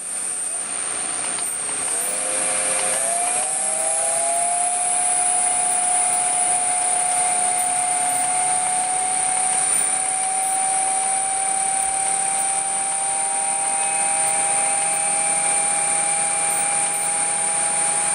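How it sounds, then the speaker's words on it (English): A 0.75 kW Mechtric three-phase electric motor runs steadily at 80 Hz. Its tone rises briefly as it spins up, then settles into a constant, loud whine with a high electrical hum underneath, and no one speaks. "But I can't go past 80 hertz, this motor doesn't like it."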